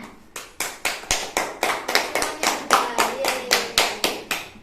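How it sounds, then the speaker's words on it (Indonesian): Rhythmic group clapping in a classroom, about fifteen sharp, evenly spaced claps in unison from a small group of children, close and crisp, with no talking. "Tepuk tangan buat Mbak Dina."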